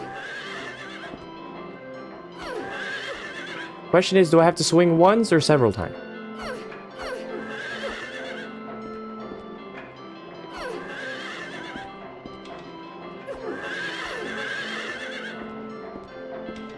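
A horse neighs in the video game Silent Hill 3, one loud whinny lasting about two seconds amid the game's ambient sounds, while someone talks over the gameplay.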